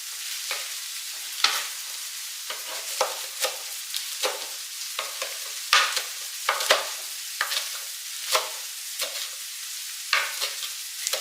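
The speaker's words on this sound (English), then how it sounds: "Stir my onions." Chopped onions sizzle steadily in a hot pan, with repeated scraping strokes of a spoon or spatula stirring them at close range.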